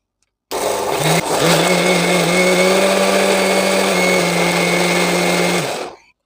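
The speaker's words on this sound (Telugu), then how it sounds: "అన్నీ మిక్సీ పట్టేసుకుందాం ఇప్పుడు." A mixer grinder grinds wheat rava dosa batter with water, starting abruptly into a loud, steady motor whine with a slight pitch step early on, running about five seconds before winding down.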